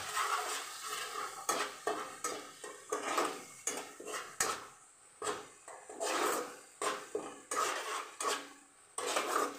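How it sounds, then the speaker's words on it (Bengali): Spice paste with Kashmiri chilli powder is stir-fried in a pan, heard as repeated metallic scrapes and knocks of a spatula in a steady rhythm over a low sizzle, close and clear, with no talking. "মশলাটাকে কষিয়ে নেব"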